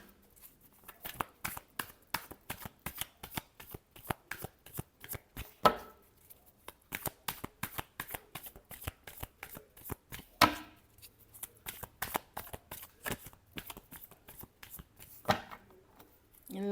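Tarot cards shuffled by hand in a steady run of quick, crisp card slaps and riffles, close and fairly quiet, with brief pauses between bursts.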